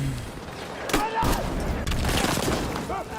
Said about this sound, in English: did that nade not land exactly the same time as the other nade?